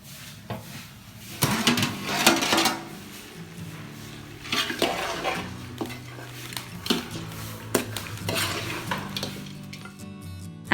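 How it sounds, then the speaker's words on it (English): Chicken pieces frying with soft sautéed onions in a pan for spicy chicken mandi, with a steady sizzle under repeated clinks and scrapes of a spoon stirring against the pan, no talk. "Saute the onions till soft and then add the chicken pieces"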